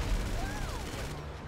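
Rapid gunfire from the video game GTA 5 crackles in a dense, continuous volley for over a second, with a faint whistling tone sweeping across it before the shots thin out near the end.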